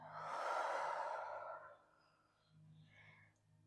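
A long, breathy exhale during a slow forward fold in a yoga flow, soft and close, swelling then fading over about two seconds, followed by quieter faint breathing.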